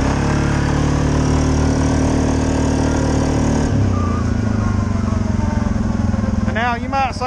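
A Suzuki KingQuad ATV engine drones loud and steady throughout, its pitch shifting as it revs during a wheelie, with a brief higher whine near the end.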